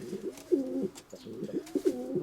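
A young white-tailed pigeon coos at close range as he drives his mate toward the nest, giving two or three soft, rolling coo phrases in quick succession, with no voices present.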